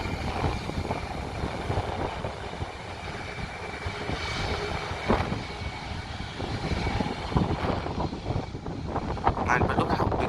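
Boeing 737 airliner engines give a loud, continuous broadband roar and whine, steady throughout at close range, while people talk faintly underneath.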